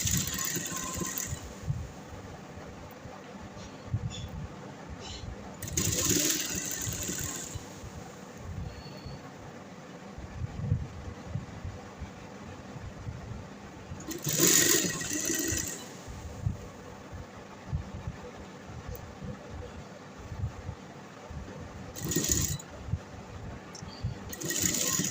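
A sewing machine stitches a Chinese collar neck in a few separate bursts of whirring, spaced over a quiet background.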